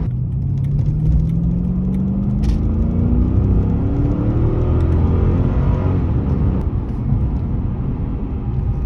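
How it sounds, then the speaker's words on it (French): A Mercedes E500 W211 with its V8 engine sings while driving on an empty road, a loud sustained rumble whose pitch climbs steadily as it accelerates, with no talk over it. "Faut qu'elle chante cette voiture, c'est un V8."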